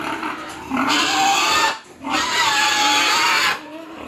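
Hungry pigs squeal loudly and continuously at feeding time, in two long, shrill bursts separated by a brief pause, close by.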